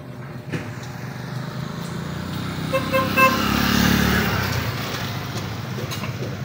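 Roadside traffic flows past a small shop in Calatrava near the pier, a continuous rumble of cars and motorcycles with a few short car horn toots in the middle and the noise swelling slightly as vehicles pass close by.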